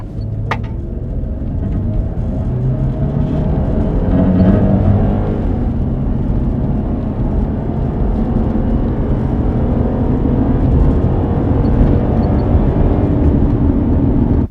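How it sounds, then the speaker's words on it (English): A 4x4 with an oiled foam pre-filter sock over its snorkel accelerates from 0 to 100 km/h, its engine a loud, steady, close rumbling drone that holds throughout. "Now we're going to do 0 to 100 kilometers an hour using the ram head cover, which is oiled foam."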